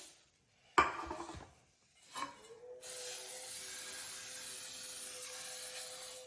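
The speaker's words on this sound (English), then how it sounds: "I'm using some spray, canola oil spray." After a couple of faint clicks, an aerosol canola oil cooking spray lets out a steady, close hiss onto a cake pan that continues for several seconds.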